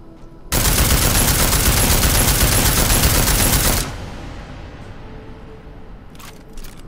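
Gunfire in Deus Ex: Mankind Divided: a loud, sustained burst of rapid automatic fire lasting about three seconds, cutting off abruptly into a quiet echoing tail with a couple of faint clicks after.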